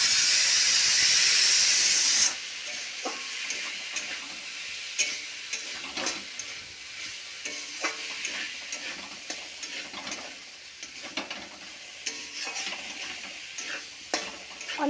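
Sago pearls are added bit by bit and stirred in a hot pan, starting with a loud burst of steam hiss that drops into a steady sizzle with rhythmic scraping stirs.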